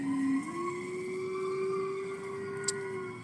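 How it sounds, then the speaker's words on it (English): A distant siren wails outdoors in a steady, faint, drawn-out tone that rises slightly early on, with a soft background hum and no talking. "So there's always sirens in our videos every time."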